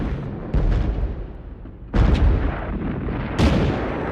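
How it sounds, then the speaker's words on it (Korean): German artillery opening fire on the Western Front in the First World War, three heavy booming blasts spaced about a second and a half apart, each with a long rumbling tail, loud and close. "오전 4시 40분 독일군이 포문을 엽니다."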